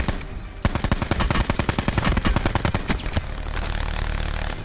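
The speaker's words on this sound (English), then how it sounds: "We got a sentry gun in play." A sentry gun in Call of Duty Blackout fires a rapid, steady stream of loud automatic shots for a couple of seconds before the burst thins into more distant gunfire and a low background rumble.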